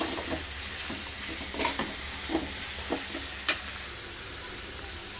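Chicken fries in a pan with a steady broadband sizzle, while a utensil stirs and scrapes at intervals, producing several sharper clicks, one louder near the end, all close and with no voices.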